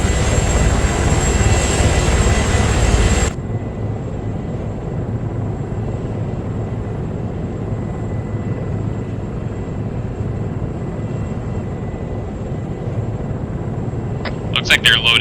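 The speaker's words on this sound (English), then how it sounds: "when I go to the map, the helicopter sounds get really loud" An Apache helicopter in a military video game makes a continuous heavy rotor and engine roar, very loud at first, then dropping to a steadier, quieter rumble that carries on to the end.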